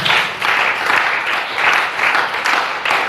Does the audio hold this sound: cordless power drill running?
no